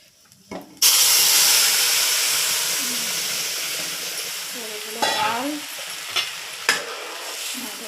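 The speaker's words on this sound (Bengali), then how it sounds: "এটা ফোড়নটা দিয়ে দিচ্ছে" Spices tempered in hot oil for a fish head dal burst into a sudden loud sizzle that slowly fades into a steady hiss, with a few clinks and brief voices underneath.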